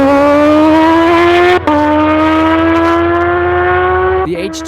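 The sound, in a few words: car making a timed drag run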